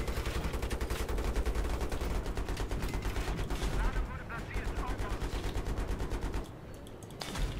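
Sustained rapid automatic gunfire in Battlefield 3, a steady rattling stream of shots near and loud, briefly dropping off before resuming.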